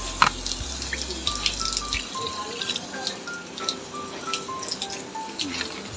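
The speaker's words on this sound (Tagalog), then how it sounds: "Lalagyan po siya ng konting tubig." Water trickles and drips steadily as it is poured into a cooking pot of cleaned galunggong fish, a light splashing flow with faint clinks, no talking.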